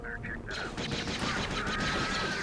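Gunfire from engineer enemies in the Star Wars Jedi Knight video game: several sharp blaster-like shots in quick succession over a dense, noisy game soundscape, with talk heard over it.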